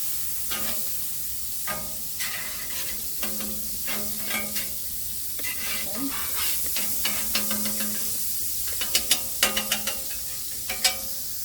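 Vegetables sizzling in butter on a hot grill pan, a steady soft hiss with frequent clinks and scrapes of stirring, close and fairly quiet.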